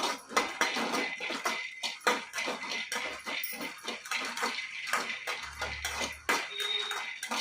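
Sabudana being dry-roasted in a pan for vada, with repeated scraping and clinking of a utensil against the metal pan in an irregular stirring rhythm, close and moderately loud, no talking.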